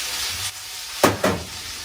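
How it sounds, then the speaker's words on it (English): Vegetables saute in a hot pan for a roast pepper vodka pasta, giving a soft steady sizzle broken by two sharp scraping stirs near the end, close up and without speech. "while this is sauteing"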